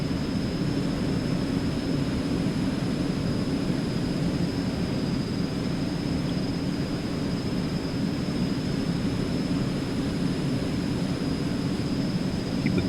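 A steady, broadband jet-engine roar and airflow hiss from an airplane climbing after takeoff over mountains in X-Plane 11, constant and unbroken throughout with no voices.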